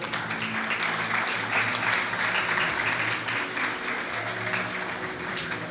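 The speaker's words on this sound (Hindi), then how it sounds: "आपकी जोरदार तालियों में" Audience applause at a church Resurrection event fills the space with dense, steady clapping that holds at an even level throughout, with no voices breaking through.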